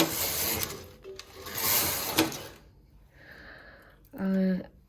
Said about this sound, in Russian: мы ее ставим, эту иглу, в рабочее положение и провязываем 2 ряда